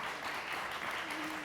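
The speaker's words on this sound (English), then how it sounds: "I think that deserves a round of applause" Brief audience applause at a panel on the U.N. Decade of Education for Sustainable Development, a soft, even burst of clapping heard at a distance.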